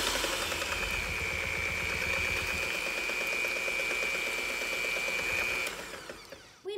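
An electric mixer whips wet cake batter of vanilla extract and cold water with a steady, continuous motor whine that holds evenly for several seconds and then cuts off near the end.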